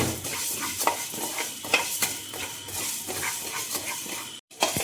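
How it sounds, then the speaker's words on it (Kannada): Coriander seeds dry-roast in a hot pan while a spoon stirs them in quick, repeated scrapes over a light sizzling hiss. The sound is close and steady, with a brief cut-out near the end and no voices. "ಮೊದಲಿಗೆ ಕೊತ್ತಂಬರಿ ಕಾಳು ಹಾಕೊಳ್ತಿದ್ದೀನಿ. ಮೊದಲು ಇದನ್ನು ಸ್ವಲ್ಪ ಹುರ್ಕೊಳ್ಬೇಕು."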